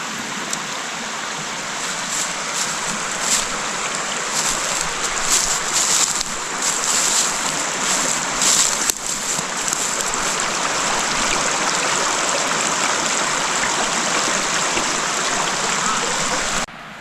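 Water pours steadily over the old Brown's Mill dam south of Newnan, a loud, continuous broadband rush that holds unchanged throughout with no voices.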